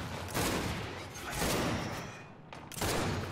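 Rapid gunfire bursts fill a match of the video game Gears 5, loud sustained rattling volleys with brief gaps between them.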